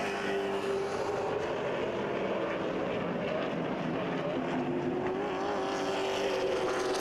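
Late model race cars on an oval circuit working through turns 3 and 4, a continuous droning engine roar with a rising and falling pitch as the cars sweep by at a moderate distance.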